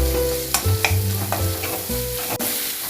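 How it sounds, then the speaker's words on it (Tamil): Onions fry in a hot pan, sizzling steadily while a spoon scrapes and stirs them in a few quick strokes, close and without talk. "அடுத்தது இதில் ஆனியன் ஆட் பண்ணிக்கோங்க. அதையும் லைட்டாக ஃப்ரை பண்ணிக்கலாம்."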